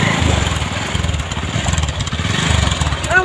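Motorcycle engine revving and sputtering in uneven bursts on a rough rocky riverside track near Saptakoshi, loud and close, with a brief voice at the end.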